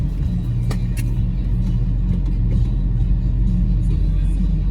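A Jeep Wrangler JK or JL crawls downhill in 4 low with downhill assist braking, giving a loud, close, steady low rumble with a brief sharp click early on.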